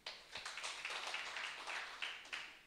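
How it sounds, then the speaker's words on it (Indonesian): A church congregation at a Sunday service applauds briefly, a faint, dense patter of many hands clapping for a few seconds. "beri tepuk tangan dulu"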